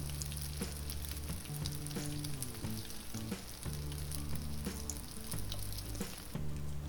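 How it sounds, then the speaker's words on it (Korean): Brown croaker fillets coated in flour and egg sizzle steadily in a frying pan, a close, even crackle with small pops and no talking. "전 익는 소리가 너무 좋죠"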